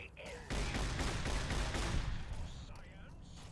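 Rapid gunfire from a weapon in Fallout New Vegas, a dense burst of shots lasting about two seconds before tapering off, loud and close with game effects behind it.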